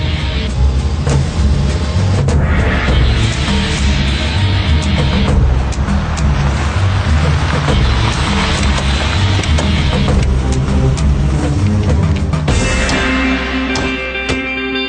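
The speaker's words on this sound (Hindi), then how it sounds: "चलो भाई जल्दी से भगाओ गाड़ी।" A car pulling away fast, its engine revving loud and close in rising surges with some gear changes, then a brief mechanical whine near the end.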